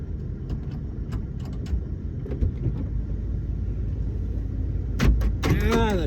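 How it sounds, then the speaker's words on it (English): Van door locks unlocking, a quick mechanical clunk and actuator whir near the end, following a stretch of low vehicle rumble and faint clicks. "Door locks went open."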